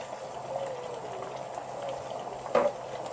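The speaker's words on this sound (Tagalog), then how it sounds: "Ngayon kumukulo na po siya." Ginataang tilapia coconut sauce boiling in a covered pot, a steady close bubbling and simmering with a brief louder burst of bubbles near the end.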